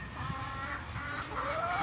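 Hens cluck in a 4-H Club barn at a fairgrounds in Naples, with short, close, repeated calls overlapping into a busy, continuous chatter.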